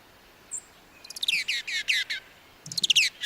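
Sparrows chatter from the bushes in quick bursts of bright, rapid twittering chirps, with a short pause between two busy runs.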